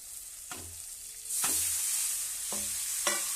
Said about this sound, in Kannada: ಗೋಡಂಬಿ ದ್ರಾಕ್ಷಿ ಫ್ರೈ ಮಾಡೋದು ಅದನ್ನು ಹಾಕ್ತಾ ಇದ್ದೀನಿ